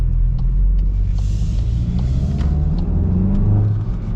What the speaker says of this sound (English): 2-liter 4-cylinder, it definitely has a little bit of turbo lag going on.